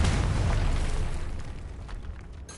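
A Confringo fire spell explodes in a Hogwarts video game, a loud broad boom that opens at full force and rumbles as it slowly fades over a couple of seconds, heard alone.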